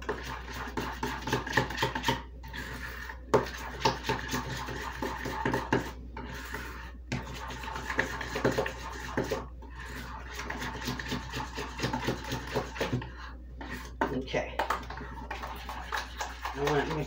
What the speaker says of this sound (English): Now, we're just going to give this a good mix.